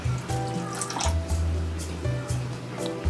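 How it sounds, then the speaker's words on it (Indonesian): Water being poured into corn fritter batter in a kitchen: a short, soft liquid splash and trickle, fairly faint and close, lasting a few seconds with no talking. "Kita tambahkan air 1 sloki segini."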